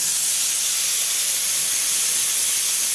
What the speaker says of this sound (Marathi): मित्रांनो, बघू शकता आता ही दुसरी शिट्टी झालेली आहे।